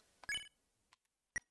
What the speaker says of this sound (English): Let's call him right now.